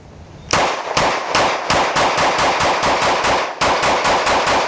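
A 9mm pistol built from a factory Glock Gen 3 Model 19 slide on an SCT frame fires a rapid string of loud, close shots in steady rhythm with one short pause partway through.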